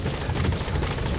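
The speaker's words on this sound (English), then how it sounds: "Support helicopter has arrived." A support helicopter arriving at a landing zone in the video game Metal Gear Solid V: The Phantom Pain, its loud, steady rotor roar filling the whole moment without any speech.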